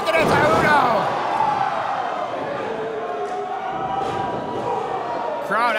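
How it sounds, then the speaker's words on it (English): A wrestling crowd cheering during a six-man tag match at Parkdale Hall, a dense, steady roar of voices with a commentator talking over it. "Crowd absolutely electric here"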